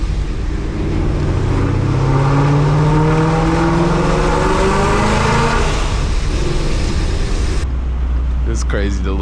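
An 1100 hp Ford Mustang drives through downtown Los Angeles at night, its engine a loud, steady rumbling drone with rising and falling revs, close and continuous, ending in a brief burst of higher-pitched noise.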